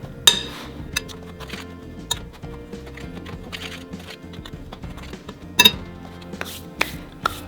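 Sugar clumps get crushed and stirred in a mixing bowl for carrot cake batter, giving a series of sharp clinks and taps with soft scraping between them, close and clear, with no talk.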